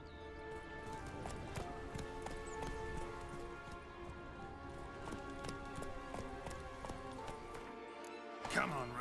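Geralt's horse Roach trots through The Witcher 3 with a steady, close clip-clop of hooves over layered game music, ending in a brief louder rustle.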